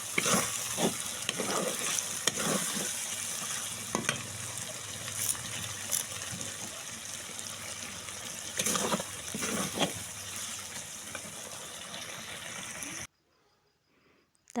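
Kosha mangsho, spiced meat, frying and being stirred in a pan, with a continuous close sizzle and scraping stir strokes that cut off abruptly near the end.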